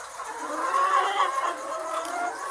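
RTL chickens cluck softly and steadily in a backyard flock, a close, continuous murmur of hen calls with no talking.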